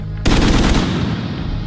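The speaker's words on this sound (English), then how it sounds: "What I wanted to do with the guns is to capture the more urban feel, the street reflections that happen when you fire a gun" Gunfire recorded for the video game The Division, an urban street setting: a sudden loud burst of rapid automatic shots merging into a dense roar with reflections ringing on, close and powerful, no voices.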